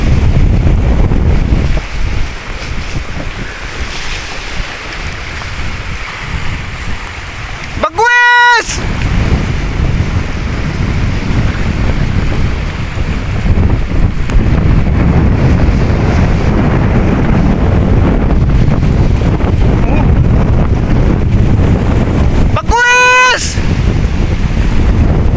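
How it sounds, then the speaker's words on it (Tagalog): Strong wind roars steadily around a boat out at sea, a dense, gusty rumble lasting throughout, broken by two brief rising electronic chirps. "Lakas ng hangin."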